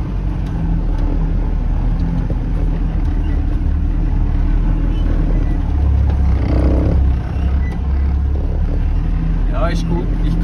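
A car crawls over Sahara sand dunes in Tunisia in second gear, its engine a steady low drone throughout, with a slight surge midway and people talking over it inside the cabin.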